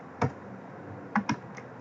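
Isolated key presses on a computer keyboard: one click, a pause, then a quick pair and a faint final tap, close by with no talking.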